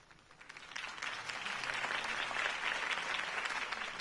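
Crowd applause fills the scene in the Batman Telltale game, a dense steady clapping that swells within the first second and holds loud and even to the end, with no voices over it.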